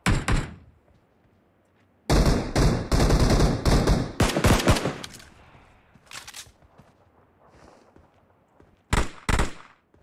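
Gunfire in the mobile shooter PUBG Mobile: loud bursts of rapid automatic shots in clusters, separated by quieter pauses, with a couple of final short volleys.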